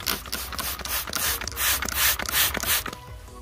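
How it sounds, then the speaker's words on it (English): A trigger spray bottle filled with Dawn dish soap and water mists plant leaves in about a dozen quick, evenly spaced hissing squirts, each with a faint plastic click, close and clear with no talking. "we're gonna go ahead and just spray these with some Dawn dish soap and some water to try to kill the aphids"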